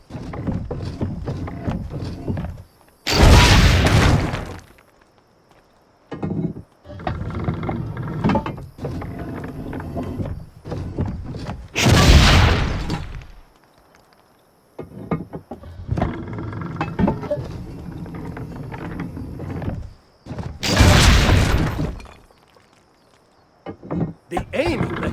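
Three heavy cannon blasts boom from a ship's deck in the pirate game Assassin's Creed Black Flag, spaced several seconds apart, with creaking wood, rumbling ambience and voices talking between shots.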